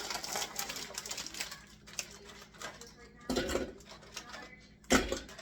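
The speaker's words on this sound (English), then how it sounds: "I'm going to put all of these Oreos inside of the food processor and we're going to pulse them" Food processor pulsing Oreo cookies into crumbs, close rattling and chopping bursts in short pulses with loud clattering thumps near the end, recorded in a home kitchen.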